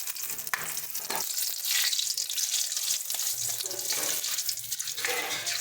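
Whole spices and two bay leaves sizzling in hot oil for a mutton kosha, a loud, bubbling, hissing fry with watery crackle and a few stirring knocks, close by, with no speech.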